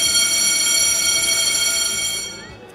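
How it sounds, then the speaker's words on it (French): A school bell rings steadily at a school as recess begins, a sustained bright metallic ringing that holds evenly and then fades away near the end, with no talk. "quand la cloche a sonné"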